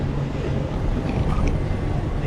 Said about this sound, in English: really does sound like a misfire. Even so, it's still pulling quite well